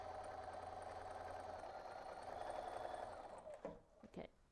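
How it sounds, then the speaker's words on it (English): Sewing machine stitching a quilt seam on a table runner, a steady close mechanical whir lasting a few seconds before slowing and stopping with a couple of clunks, quiet overall. "we're gonna go ahead and sew on line 2"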